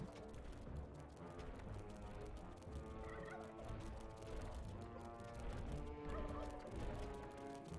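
Chickens cluck and squawk in the dungeon-management game Dungeons 3. The calls are faint and repeated, blended into busy game sounds and music.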